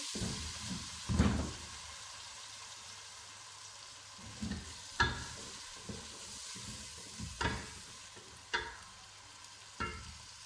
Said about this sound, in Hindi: टमाटर को अभी जल्दी तक पकाएंगे।